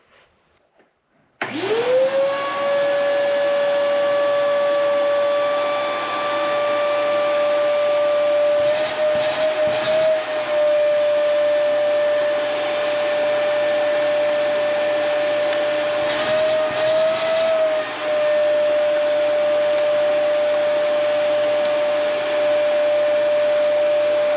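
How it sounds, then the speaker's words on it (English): A vacuum cleaner starts up and runs steadily with a loud, continuous whine that holds a high tone and wavers slightly in pitch now and then. "I'm going to go ahead and just vacuum that out"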